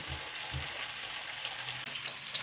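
Sour cream sauce stewing in a pan for crucheniki with omelette, giving a steady low sizzle and bubbling with a couple of soft stirring thumps, close and moderately quiet, no voices.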